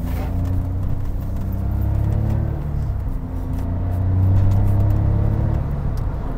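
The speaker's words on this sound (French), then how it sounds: "il fait un petit son sympa quand même ce 3 cylindres" Steady low engine drone from a three-cylinder Smart car cruising gently with a cold engine, with a gentle rise in pitch and volume as it picks up speed.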